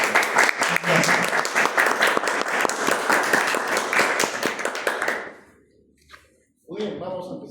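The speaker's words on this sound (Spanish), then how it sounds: "damos una bienvenida con unos aplausos" A parish audience gives welcoming applause before a lecture on Peru's Catholic identity, loud, dense clapping for about five seconds that cuts off abruptly, followed by brief murmuring voices.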